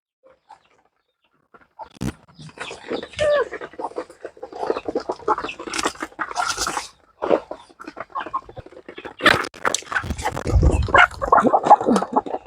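Hens on a poultry farm cluck and squawk close by in a busy, continuous stream of bursts, with occasional louder calls.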